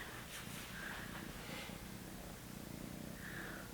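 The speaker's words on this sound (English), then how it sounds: "she is purring and making biscuits" A kitten purring softly in a new handmade biscornu cat bed, a faint, steady low rumble heard close up with no voices.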